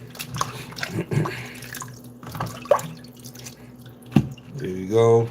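Tap water runs and drips while raw chicken is washed in a kitchen sink, with irregular splashes and trickles and brief bursts of voice near the end.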